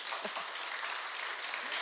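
A church congregation at a Sunday service bursts into sustained applause, a dense, even roar of many hands clapping, fairly close and continuous for about two seconds.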